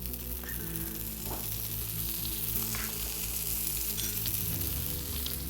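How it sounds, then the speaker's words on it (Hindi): Chickpea kebabs fry in ghee on a hot pan, giving a steady, even sizzle that carries on without pause, close and alone, with a few faint clinks over it. "थोड़ा थोड़ा घी डालते जाएंगे।"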